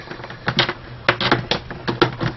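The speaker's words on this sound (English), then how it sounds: "Now we pull the box apart" Wago plastic electrical junction box being pulled apart, a run of sharp close plastic clicks and snaps in quick irregular succession, with no talking.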